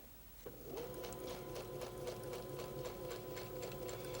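A sewing machine stitching Dutch Rose / Carpenter's Wheel quilt pieces runs off a corner and on toward an anchor cloth, a steady close whirring hum with quick regular stitch pulses after a brief quiet start.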